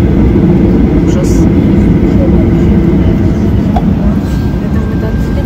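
Airliner taking off on a flight to Minsk, a loud steady engine roar filling the cabin with low rumble throughout, while people talk over it.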